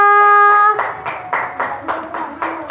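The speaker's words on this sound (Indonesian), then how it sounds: "Tepuk tangan semuanya." A classroom of students claps together in applause after a group presentation, a dense burst of overlapping hand claps following a short tonal sound, carrying on steadily in a room with some faint voices.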